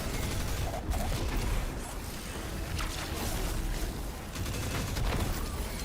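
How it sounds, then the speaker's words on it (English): Dense, continuous gunfire in the video game Destiny, a rapid rattling fusillade that runs steadily through the whole stretch at a constant loud level, with no voices over it. "The gunfire is definitely different."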